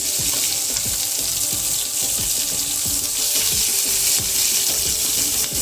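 Sliced onions and cumin fry in hot oil for a bitter-gourd peel bhurji, giving a loud, continuous hiss with repeated scraping stirs against the pan.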